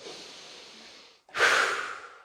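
A deep breath during a guided relaxation moment: a slow, soft inhale followed after a brief pause by a louder, fuller exhale, close and alone with no talking.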